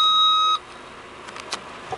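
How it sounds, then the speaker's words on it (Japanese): A single steady electronic beep from the corner sensor switch inside a Nissan Skyline sounds for about half a second and then cuts off, followed by faint clicks and small cabin noises. "このピーってつく音がコーナーセンサーのスイッチの音なんでしょうかね"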